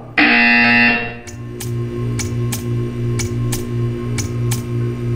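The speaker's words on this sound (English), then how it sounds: "You will hear a buzzer." A steady electronic buzzer in the video game Portal 2 drones loudly throughout, starting abruptly after a brief high tone, with a faint ticking pulse repeating beneath it.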